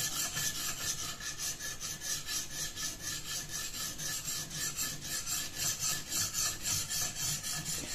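A knife blade is drawn again and again across the stone of a TSPROF Kadet Pro sharpener, making a steady rhythmic rasping of short strokes, fairly quiet and close, with no talk.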